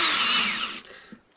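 A power drill drives screws into a log, whirring loudly and steadily for nearly a second before cutting out, followed by a faint knock.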